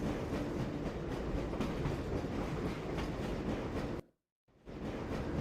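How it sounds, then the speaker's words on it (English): The Black Mesa tram from the video game Half-Life rolls along with a loud, steady rumble and faint clickety-clack. Everything cuts out abruptly for about half a second, then the rumble resumes. "This train is inbound from Level 3 dormitories to Sector C test labs and control facilities."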